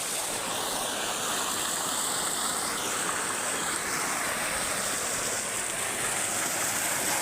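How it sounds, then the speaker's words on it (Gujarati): A water pump motor gushes a strong, continuous rush of water loudly and evenly, a heavy stream without pause. "પાણી આવું કાઢે છે મોટર જોઈ લો"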